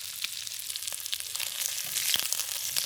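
Shrimp sizzle and crackle while browning in a hot pan for a curry stir fry, a close, busy frying hiss with scattered pops and light stirring, no voices.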